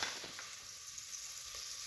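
Chopped onion sizzles steadily in hot oil in a home kitchen while a chicken dish is being made, a constant close hiss with faint crackles and a soft stir or two.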